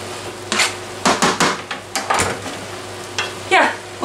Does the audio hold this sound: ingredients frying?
yes